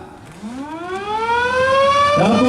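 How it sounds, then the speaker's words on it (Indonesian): A siren started by button press at the Temef dam ceremony winds up from a low growl to a loud, steady rising wail, its pitch climbing smoothly and then holding strong. "akan ditandai dengan penekanan tombol sirene secara bersama-sama"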